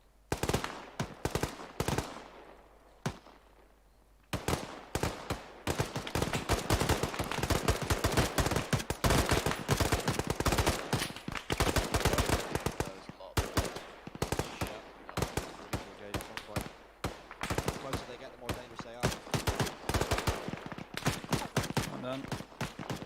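Loud, sustained gunfire fills a military video game operation: rapid automatic bursts and single shots crackle almost without pause after a brief quieter opening, with voices now and then under the shooting.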